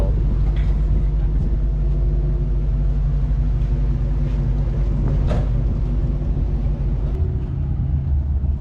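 Deep, steady rumble of an LS V8-swapped Mazda RX-8 idling close by at a Hot Rod Power Tour stop at Summit Motorsports Park, Norwalk, Ohio, a continuous loud low drone with crowd noise around it.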